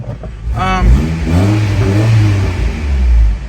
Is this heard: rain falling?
no